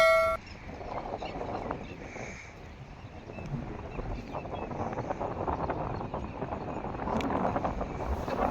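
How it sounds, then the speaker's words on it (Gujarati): Strong wind gusts roar and buffet the microphone outdoors at Dantiwada Dam, with a faint horn sounding in the distance. "પવન પણ ખૂબ ફૂંકાઈ રહ્યો છે આપ લોકો સાંભળી શકો છો પવનની પણ"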